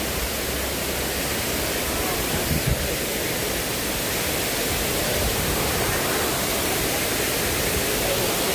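Tat Ton Waterfall rushing, a steady, loud broadband roar of falling water that stays constant throughout, with no voices over it.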